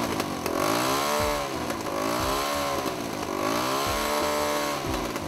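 A small motor engine runs loud and close, its pitch rising and falling in repeated revving swells across the whole stretch, with no voices.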